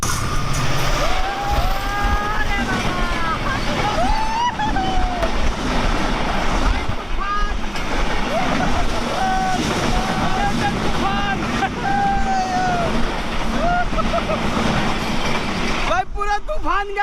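Strong wind buffets the microphone at a small lakeside railway station with water on both sides, a steady loud roar throughout with a voice speaking over it.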